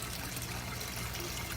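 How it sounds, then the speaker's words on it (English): Water trickles continuously from an aquaponics grow bed down into the fish tank below, a steady, close burbling flow at low volume with no voices. "there's constantly going to be a flow of water out of the system, down into the tank"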